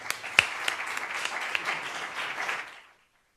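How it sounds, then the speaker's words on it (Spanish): A short burst of applause for the opening speaker at a formal conference on legal security for seniors, steady clapping from a seated audience that fades out after a few seconds. "Recibámosla con un gran aplauso"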